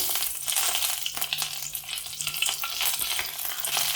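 Mustard seeds, dried chillies and curry leaves crackle and sizzle in hot oil, a steady frying hiss dotted with sharp pops and spatters throughout, with no voices.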